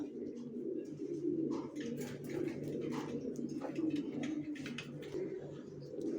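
Racer pigeons coo steadily in a loft, a dense low murmur of overlapping calls with a few brighter chirps above, close and continuous throughout.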